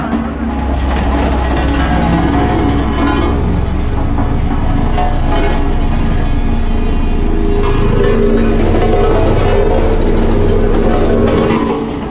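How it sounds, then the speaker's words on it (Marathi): A road roller's engine runs at roadworks in Konkan, a loud, steady low diesel rumble that holds close and constant throughout with little change. "समोर हा रोड रोलर आहे"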